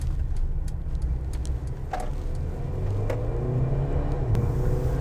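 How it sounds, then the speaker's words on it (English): A 2020 Mercedes-Benz GLB 250 SUV makes a tight U-turn, heard as a steady low engine rumble and road noise from inside the cabin, with light clicks and rattles. "We're going to do a tight turn here, a tight U-turn"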